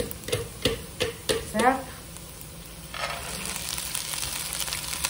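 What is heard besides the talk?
drained lentils added to olive oil in pot, sizzling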